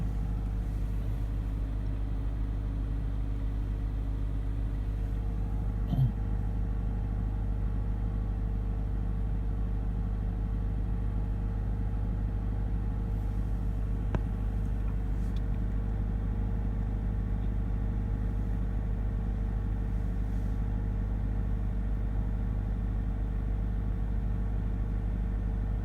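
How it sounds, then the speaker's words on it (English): A Toyota GT-86 with a Subaru FA20 boxer engine idles high a few minutes after a cold start, a steady, low, even rumble close by with no talking. "it's been about 3 minutes since I started the boxer up, and it's still revving at"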